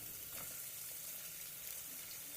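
Beans and green chillies frying in a pan for a vegetable palak pulao, giving a steady close hiss of sizzling oil with a few faint stirring scrapes and no talking.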